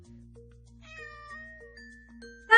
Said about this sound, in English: purred the sleepy cat